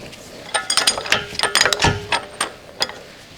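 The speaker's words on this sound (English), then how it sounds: "Using the 36mm heavy-duty socket with the heavy-duty extension bar, remove the axle retaining nut" A 36mm heavy-duty socket on an extension bar, with a ratchet, works the front axle retaining nut on a Dodge Ram, producing a quick run of close, sharp metallic ratchet clicks and clanks.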